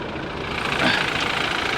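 A brand-new 2024 Subaru idles loudly with the hood open, a steady close rumbling engine with a brief louder surge partway through, no talk.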